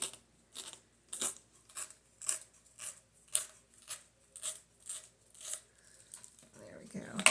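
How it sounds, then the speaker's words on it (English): A small strip of paper is torn off the bottom of a sheet in a series of short, quiet ripping bursts at a steady rhythm, with louder rustling handling at the end. "let's see if I can tear this little strip off the bottom here"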